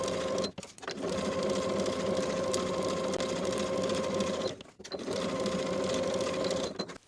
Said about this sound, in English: Sew from one bottom edge, pivoting along the top edge back to the opposite bottom edge with a 1/2 inch seam allowance.